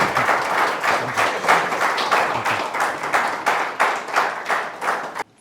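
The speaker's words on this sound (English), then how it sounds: "Big round of applause for you." An audience at an emotional intelligence awareness session applauds, a loud, even mass of many hands clapping for about five seconds before it abruptly stops.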